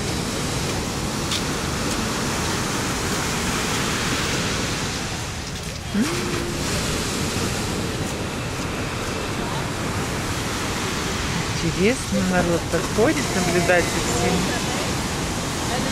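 Sea surf rolls onto a beach in Nha Trang, Vietnam, as a constant broad roar with gentle swells, heard up close throughout while people talk nearby and a few brief whistling or squeaky sounds rise near the end.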